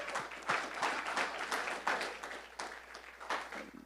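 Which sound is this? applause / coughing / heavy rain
applause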